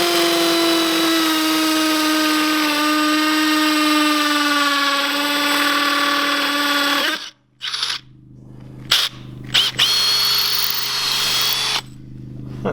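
A Milwaukee cordless drill bores into a thick spot, whining loud and steady for about seven seconds before the motor cuts off, followed by a few short bursts and scraping handling noises.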